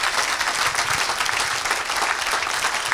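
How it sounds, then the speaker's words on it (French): A church congregation applauding and cheering for Jesus Christ, steady dense clapping from a large crowd filling the room at constant loudness without a break. "Je croyais que tu allais acclamer pour Jésus-Christ."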